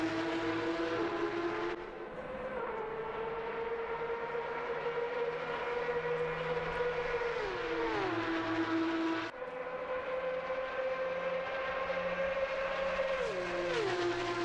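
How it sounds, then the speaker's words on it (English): Porsche Cup GT3 race car engines at Bathurst in a racing game, loud sustained engine howl rising through the gears and dropping on two upshifts or braking points, with several cars passing and no talk. "Love the sound of these cars"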